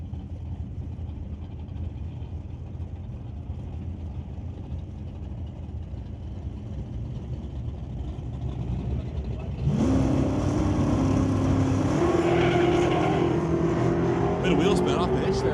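Two Fox Body Ford Mustang drag cars, an 1988 and a 1991, launch together at the strip; a low engine drone builds, then both erupt into loud, rising revving as they pull away.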